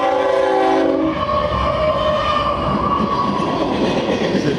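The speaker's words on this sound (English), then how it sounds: "Sitting out here watching trains go by." A freight train with car haulers in a mixed consist rolls past close by, a loud steady rumble and rail roar with a horn blast sounding over it in the first second.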